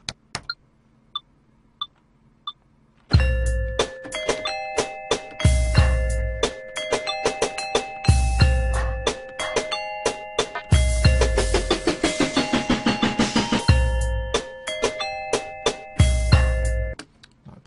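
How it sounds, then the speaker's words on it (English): Layered bell tones from music maker software ring in bright, overlapping melodic lines over punchy, steady drum hits after a sparse opening of quiet chimes. "maybe fill it in a little bit more with another layer of these bells, but higher."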